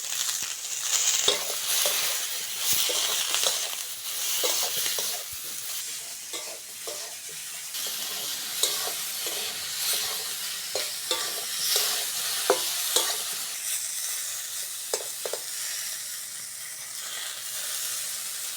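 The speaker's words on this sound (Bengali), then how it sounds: "ডিম ভেজে নিয়েছি বেগুনটাও ভাজা হয়ে গেছে তুলে নেব" Egg and eggplant fry in oil in a wok with a continuous soft sizzle, broken by frequent scraping and clinking stirring strokes at an uneven pace, close by and without talk.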